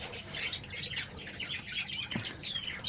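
Small budgerigars chirp and tweet from a breeding cage, a steady scatter of high, quick calls with a brief rustle of wings near the end.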